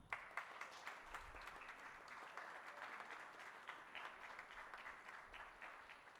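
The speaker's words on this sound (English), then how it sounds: "Please, quick round of applause." A symposium audience claps steadily for a panelist throughout, a soft, even patter of applause heard from a distance.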